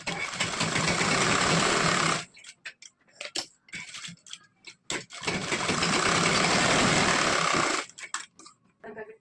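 A sewing machine stitches folded blouse fabric in two long, steady whirring runs of rapid needle clatter, separated by a pause filled with small clicks and handling noises, close up.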